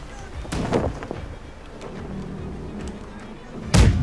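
Naval cannon fire from a ship in the Blackwake game, a few booming shots with rolling echoes, the loudest and closest blast near the end, over background ship ambience.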